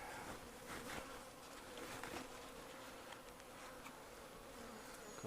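Guard bees buzzing around a beehive during an inspection, a close, steady droning hum with individual bees swelling louder as they pass, no voices.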